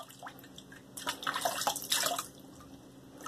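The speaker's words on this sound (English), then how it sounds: "Let me rinse and we'll do another lathering." A razor from an Italian Barber RazoRock bundle rinsed under running tap water, with splashing, dripping and a brief close swish of water, moderately loud and alone.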